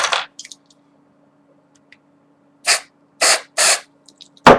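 Short bursts of lubricant sprayed into a speed cube, five sharp hissing puffs close up, the last cut off abruptly, with near silence and a faint low hum between them.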